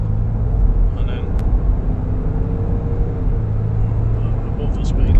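A 2020 Land Rover Defender accelerates on the road, a steady low engine and road drone heard from inside the cabin, with a brief click near the start.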